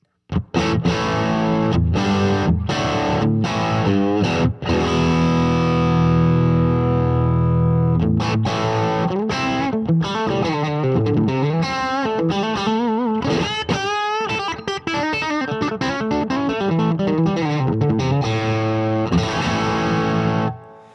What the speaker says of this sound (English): I'm using this custom audio electronics boost/line driver to get a bit of, can't even speak, get a bit of crunchy tones.